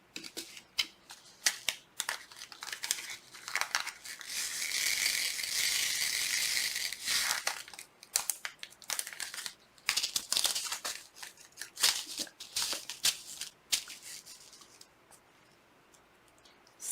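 Glass diamond-cut flatback rhinestones, size SS10 in Chameleon Emerald, handled close up: a steady crinkly rustling swell in the middle, then scattered light clicks and rattles, with no talking.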